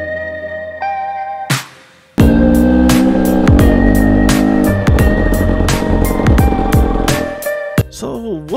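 A 2019 Husqvarna TE250i fuel-injected two-stroke dirt bike revs hard while ridden, its engine climbing in pitch and dropping through repeated throttle bursts, loud and close, with a brief lull before it pulls away again.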